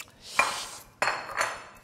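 Plates and spoons clink together while food is served, two distinct clattering bursts about half a second apart, close and moderately loud with no talk.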